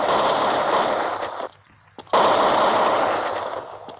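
Rapid automatic gunfire from the video game Crisis Action, loud and dense, cutting out for about half a second midway before resuming just as heavily.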